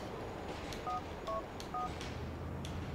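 In Grand Theft Auto 4, a phone is dialed with three distinct two-tone keypad beeps spaced about half a second apart over faint background ambience.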